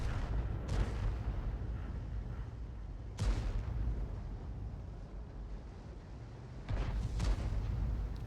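Heavy artillery booms from a GW Tiger self-propelled gun in a World of Tanks battle, three big muffled blasts spaced a few seconds apart over a constant low rumble of battle ambience, no talking.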